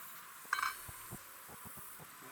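Honey bees on hive frames during a colony inspection: a faint, steady insect hum with a sharp clink of equipment near the start and a few soft knocks afterward.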